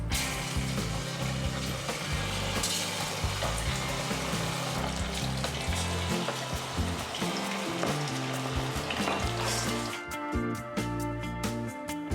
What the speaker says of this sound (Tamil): ஸோ இப்போ வந்து ஃபைனலாக 65 வந்து பொரிக்கிறோம்